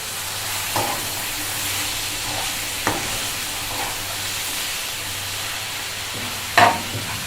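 Carrots and onions sizzle steadily in a hot pan, a constant frying hiss broken by a few sharp clinks of stirring.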